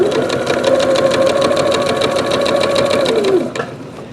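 Janome sewing machine running steadily while sewing an edge stitch, a continuous close, rhythmic whirring hum that stops abruptly near the end.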